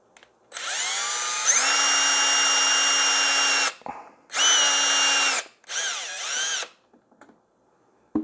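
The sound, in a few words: power drill boring a hole in a kayak part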